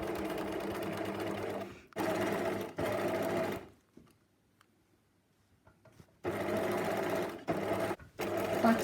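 Sewing machine stitching 1.5 cm corset seams with backstitching: loud, steady mechanical whirring in several bursts, some cut short, with a quiet pause in the middle.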